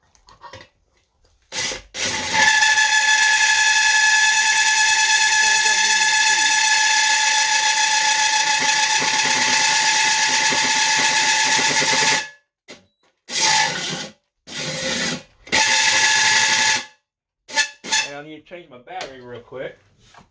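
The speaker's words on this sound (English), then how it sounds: "Now this should cut really easy, because this steel is really, really thin." A cordless power tool cuts through the thin steel of a mini keg with a loud, continuous grinding rasp lasting about ten seconds, then stops and restarts in several short bursts, with brief handling noise between.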